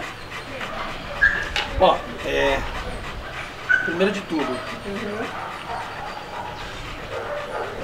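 A Rottweiler pants, yips and whimpers close by, with a few short sharp barks scattered through, while people talk over it.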